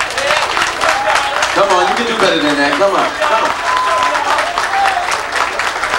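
Applause from a nightclub audience at a live soul concert at Club Elite in New York City, sustained dense clapping throughout while a man urges the crowd on over a microphone.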